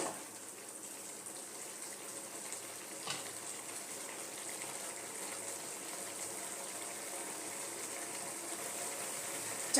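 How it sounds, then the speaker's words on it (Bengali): Tomato chutney with coriander bubbling over a high flame, a faint, steady low hiss and simmer with one soft clink early on, quiet and without speech. "এবার একটু আমি ভালো মতো এটা ফুটিয়ে নেব চাটনিটা।"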